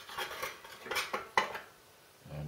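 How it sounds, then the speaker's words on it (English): Pieces of wood fuel clatter and knock as they are loaded down a chute into the chamber of a Boilex Ultraclean wood stove, a quick run of close hard taps and rattles with no talking. "So we now charge the stove with fuel"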